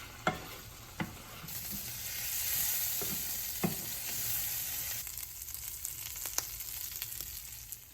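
Réunion-style Cantonese fried rice being stir-fried in a pan with a little light soy sauce, a faint steady sizzle broken by a few sharp utensil clicks and scrapes, close and quiet.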